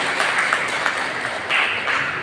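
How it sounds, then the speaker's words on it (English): Audience applause at a regional government reception for a UNDP resident representative, a short, moderate patter of clapping from a modest indoor crowd. "Please and we give applause."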